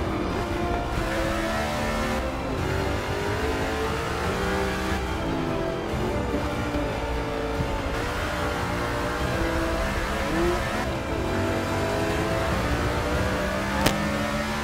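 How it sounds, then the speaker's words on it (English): A race car in Forza Motorsport 6 revs its engine continuously for the whole stretch, a dense, steady drone with shifting pitch and no talk over it. "RPMs are increasing."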